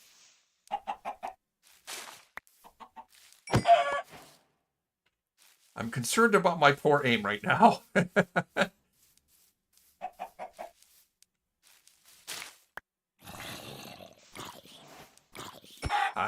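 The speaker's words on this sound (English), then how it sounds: "A lot of chickens here." Chickens cluck in a video game, in short repeated bursts between stretches of near silence, with a livelier run of layered animal calls in the middle; someone speaks intermittently over the game sounds.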